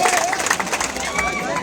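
A crowd at a large farmers' protest rally claps together, a dense, steady patter of many hands with a murmur of voices mixed in, close and fairly loud throughout.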